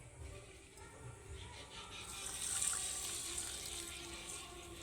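Warm water poured into a bowl of sago, a soft steady stream swelling gently in the middle, faint and close, with no voices.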